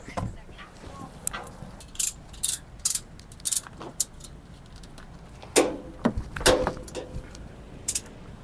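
A tow truck's loading mechanism hauls a car onto its trailer at a border crossing, giving repeated ratcheting clanks and sharp metallic knocks in uneven bursts over a low background hum.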